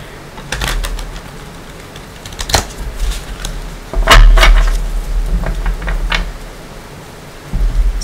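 Tarot cards being shuffled, with quick, crisp riffling bursts and slaps coming in several separate rounds, close and fairly loud.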